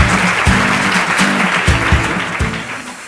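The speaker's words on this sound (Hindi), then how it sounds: "जोरदार तालियां हो जाएं अनुष्का जी के लिए" Enthusiastic studio applause for a contestant on a quiz show, loud continuous clapping with rhythmic low thumps underneath, no speech.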